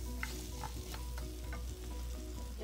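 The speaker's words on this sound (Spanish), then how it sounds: "le voy a poner el consomé y vamos a esperar que se guise por un ratito" Shrimp and fish stew with broth simmering in a pot, a steady close sizzle and bubble with a few faint clinks from the pot.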